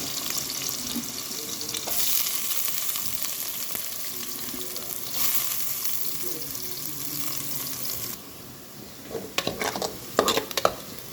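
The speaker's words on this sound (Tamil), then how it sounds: "எண்ணெய் காஞ்சிட்டு வெங்காயம் சேர்த்துருக்காங்க" Onions fry in hot oil for sambar, a steady close sizzle with stirring scrapes, then the frying quiets and a few clinks and knocks follow near the end.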